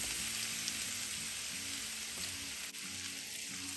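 Bitter gourd pieces fry in warm sesame oil with a steady, close hiss and crackle, while faint rhythmic tones run underneath.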